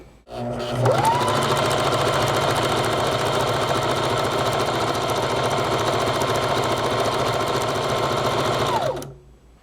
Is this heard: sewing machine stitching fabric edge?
yes